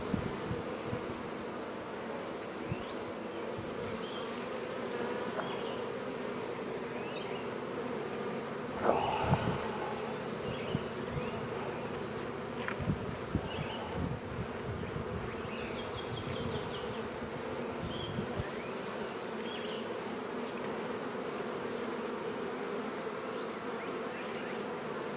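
Bees buzz continuously around a cat house, a steady, close insect drone with a few louder passes as individual bees fly near.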